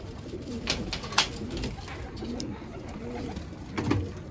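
Pigeons in a loft with one side open, soft repeated coos and faint wingbeats, fairly close, over a low rustling background.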